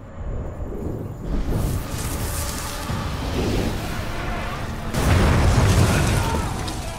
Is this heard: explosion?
yes